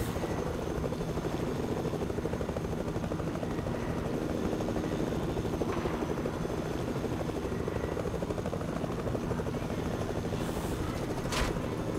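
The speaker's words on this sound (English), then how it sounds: "I believe I'm the only helicopter." A helicopter's rotor thrums steadily throughout, a constant loud chopping drone with no voices, from the video game Fortnite.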